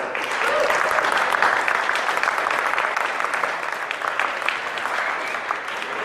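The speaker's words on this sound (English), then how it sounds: "So please give them a warm round of applause." Warm audience applause welcoming the designers of the Facebook Surround 360 camera, steady dense clapping from a crowd that holds at an even level for about six seconds.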